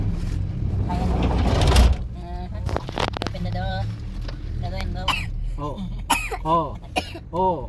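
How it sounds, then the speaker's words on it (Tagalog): Someone coughs and clears their throat a few times up close, mixed with chatter and a rumbling vehicle in the background. "Umuubo-ubo ka, eh, pauwi na tayo."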